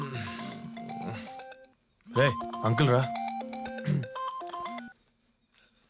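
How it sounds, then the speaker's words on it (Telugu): A mobile phone ringtone plays late at night in a quiet room, a bright repeating melody in two bursts with a short gap, while someone speaks briefly over it before it stops. "ఈ టైంలో ఫోన్ ఎవడు బావా?"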